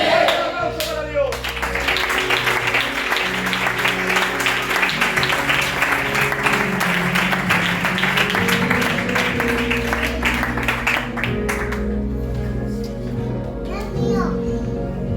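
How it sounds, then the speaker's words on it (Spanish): A church congregation applauds in praise of God, dense sustained clapping mixed with voices, children's chatter and background music from a worship service, fading to quieter sounds near the end. "Un aplauso para Dios"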